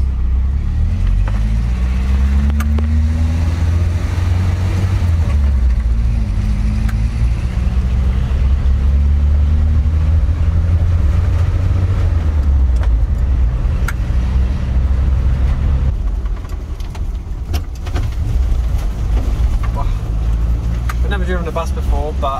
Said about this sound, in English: Let's go on a little drive down some English country lanes.